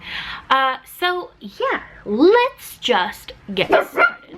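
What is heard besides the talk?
dogs barking behind the speaker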